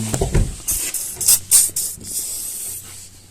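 Short hissing bursts from a spray can, used as lubricant while finishing the last seams on a car being restored, sound close and repeat about half a dozen times in an uneven rhythm.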